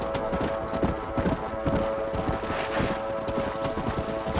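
Horses in Red Dead Redemption on Xbox One, a loud, close, steady clip-clop of hooves trotting with an occasional neigh mixed in.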